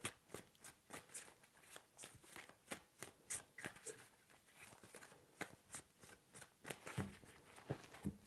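A deck of tarot cards is shuffled in a run of crisp riffling bursts, each quick flutter of cards followed by a short pause, close and fairly quiet.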